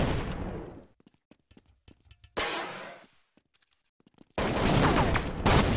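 Counter-Strike gameplay on the de_inferno map: loud bursts of gunfire and a grenade blast arrive in three separate volleys, with short quiet gaps of faint clicks and footsteps between them.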